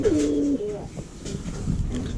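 Pigeons coo on a pigeon farm, a low throaty rolling call up close at the start, then softer overlapping coos from the flock through the rest.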